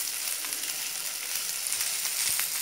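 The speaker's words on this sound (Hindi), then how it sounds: "अब हाई फ्लेम पे ही हमें इसे सौते कर लेना है।" Chopped capsicum sautés in a pan over high flame for chicken macaroni, giving a steady close frying sizzle with soft stirring scrapes and a faint clink near the end, no voices.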